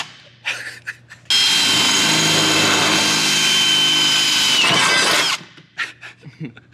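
A power drill bores holes into a rough Nissan Skyline, a loud continuous high whine lasting about four seconds, bracketed by brief voices and shuffling before and after.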